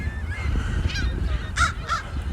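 Geese honking at a lake, a few loud, nasal calls in quick succession over a rumbling outdoor background.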